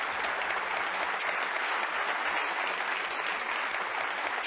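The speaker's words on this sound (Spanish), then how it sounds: "Un aplauso para Elizabeth." Audience at a talk gives a round of applause, a steady even patter of many hands clapping, moderately quiet and continuous with no voices over it.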